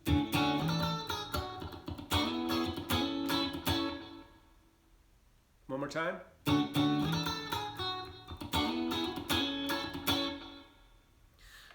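Strummed electric guitar chords from a song ring out in repeated bursts with sustained decay, a brief pause, then the pattern repeats; a voice speaks briefly in the gap.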